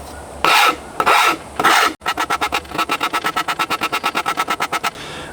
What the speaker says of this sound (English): I've got my trusty Shin-2 rasp, and I'm just going to kind of bevel that down